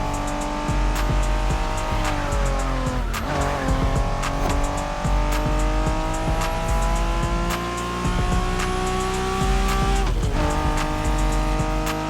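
Honda NSX race car in The Crew Motorfest video game, its engine droning loud and steady through rising gear pulls while tires squeal through corners, no voices over it.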